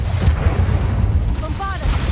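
Incendio fire spell cast in Hogwarts Legacy, a short, loud booming fiery blast with rumbling low end and a brief shimmering tail.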